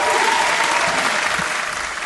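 Canned applause, a steady wash of clapping and crowd cheering that holds at full level for about two seconds with no gaps.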